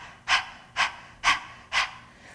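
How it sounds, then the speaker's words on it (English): Four sharp, evenly spaced breaths for a yoga breathing exercise, each a forceful nasal exhale like a dog's panting, driven from the belly and diaphragm, close and clear with brief quiet gaps between them. "you're actually expelling the breath and inhaling sharply"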